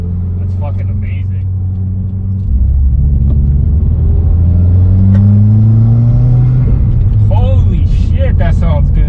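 A Subaru WRX with a Cobb intake revs up loud and close, its engine pitch climbing in rising sweeps with turbo spool, over a steady rumble, and a voice speaks over it briefly near the end.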